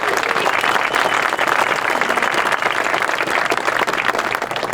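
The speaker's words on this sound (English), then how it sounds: "Let's give a big round of applause for all the volunteers." Crowd applause for volunteers at a tactical shooting competition, a steady, dense burst of many hands clapping outdoors at an even, loud level with scattered voices underneath.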